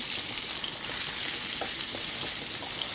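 Turkey Salisbury steaks sizzle steadily in a hot frying pan as they are turned, a continuous bright hiss with a few soft scrapes and pops, close and alone with no voices.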